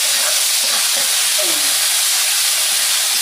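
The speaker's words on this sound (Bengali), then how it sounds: "ওই যে মশলাটা আমি কষাই নিচ্ছি" Spice paste sautéed in a pan gives off a loud, dense, steady hiss and sizzle, close up, with faint voices briefly underneath.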